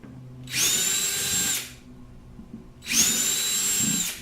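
Two bursts of a power drill whining at high speed while drilling through plastic at a pilot hole, each lasting about a second with a short pause between, close and fairly loud.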